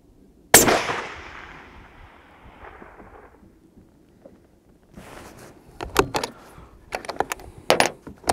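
Rifle shots fired at steel targets outdoors while rabbiting: one sharp, loud report with a long rolling echo, then after a lull a cluster of quicker cracking impacts and clatter near the end.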